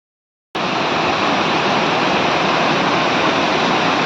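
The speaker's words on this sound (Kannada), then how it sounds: "ಹರಿಯುತ್ತಿರುವ ಜುಳು ನೀರಿನ ಸದ್ದುಗಳ ನಡುವೆ" Steady rushing water of a stream flowing beside the Somanatheshwara temple at Itala, a loud, continuous broadband wash starting abruptly and holding even throughout, with no voices.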